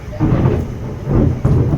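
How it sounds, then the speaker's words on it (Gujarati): Loud, close thunder crackles and booms in two strong waves, with rain hissing underneath. "કેટલી વીજળી વીજળીને કડાકા થાય છે"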